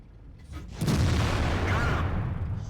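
A tank cannon fires in the World of Tanks video game: one deep, booming blast that swells and rolls on for a couple of seconds, heard alone.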